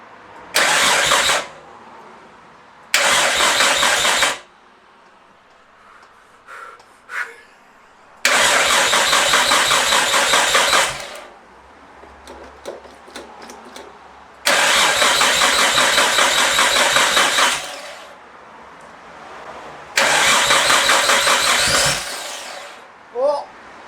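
A rebuilt Nissan RB25 engine in a C34 Stagea wagon cranks and fires in five loud bursts, each a few seconds long, separated by quieter pauses with faint clicks and mechanical rattles.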